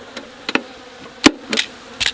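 Honey bees disturbed inside their hive at night give a few short, separate bursts of buzzing, close and fairly loud, with quiet gaps between them.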